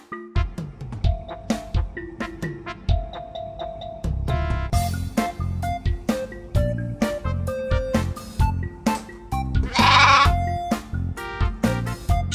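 Sheep bleating a few times over a bouncy, plucked musical backing with steady beats, the bleats loud near the end.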